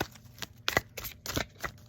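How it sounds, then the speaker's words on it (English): A deck of cards is shuffled by hand in several quick riffling bursts, close and crisp, with soft handling noise between them. "Y'all saw me shuffle them cards."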